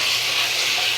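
Garlic and ginger paste sizzles in a hot frying pan, a dense, steady crackling hiss held close and loud without a break.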